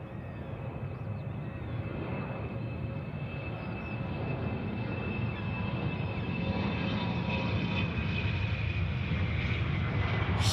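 A Rex aircraft takes off at Sydney Airport, its engine roar a steady broadband rumble that swells gradually and holds, heard from a distance with no voices.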